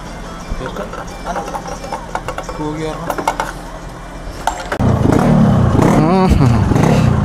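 A Yamaha RX-Z motorcycle engine idles unevenly under voices, then catches and roars into loud, sustained revving up close for the final few seconds.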